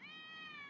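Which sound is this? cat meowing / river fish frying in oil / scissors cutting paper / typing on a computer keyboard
cat meowing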